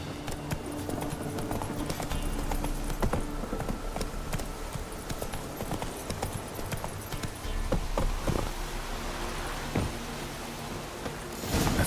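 Horse hooves clip-clopping at a steady gallop in The Witcher 3, a continuous rhythmic pounding with game ambience underneath, running the whole time with no one talking.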